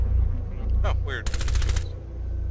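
A short burst of automatic rifle fire in Rainbow Six Siege, rapid close shots lasting about half a second, heard over a low steady hum with a brief voice just before it.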